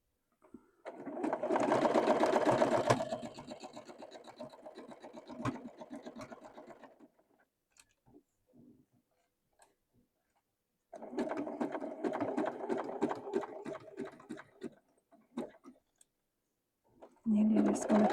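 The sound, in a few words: sewing machine stitching fabric lollipop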